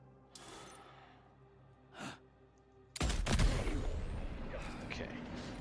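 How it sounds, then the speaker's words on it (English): A gunshot in the video game Death Stranding 2, a sudden loud blast that decays into a rumbling tail, after a quieter stretch with a breathy voice sound. "Did they hear the gunshot?"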